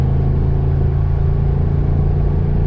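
A car with a faulty used replacement transmission drives along after shifting into fourth gear, giving a steady, loud low engine drone and road rumble that holds at an even level throughout, with no voices.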